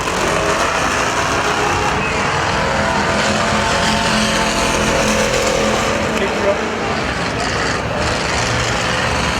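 Race cars roar around a half-mile speedway at a night of destruction event, a continuous loud engine drone filling the whole stretch with no gaps.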